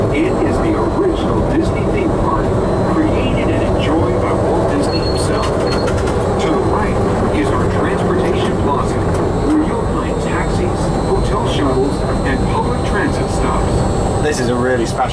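Steady rumble and hum of the Disneyland monorail ride gliding over Tomorrowland, a continuous near mechanical drone with faint background voices throughout.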